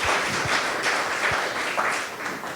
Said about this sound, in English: I'd like to lead you in a round of applause for our speakers